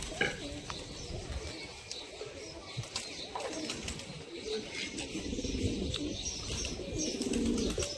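Pigeons in a home coop give low, soft coos amid rustling and faint chirps, with occasional wing flaps, steady and close throughout, with faint voices barely present in the background.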